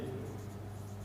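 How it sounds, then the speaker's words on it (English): A marker or chalk scratches steadily across a board during a Class Nine physics lesson on light reflection, a faint, close, continuous scraping in a quiet room with no talking. "We can write here incident ray."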